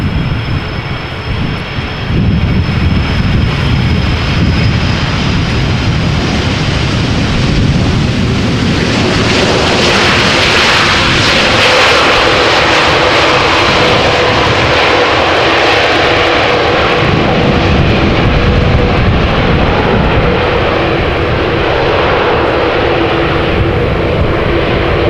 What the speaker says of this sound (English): something is flying over. Maybe a Pilatus or something